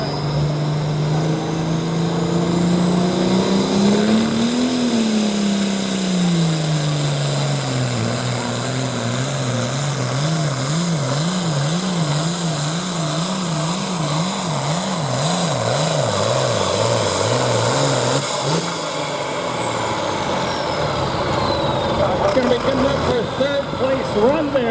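An unlimited-class pulling tractor roars through a tractor pull run, its engine pitch rising, dipping and wavering as it strains against the sled, loud and continuous, with an announcer talking over it.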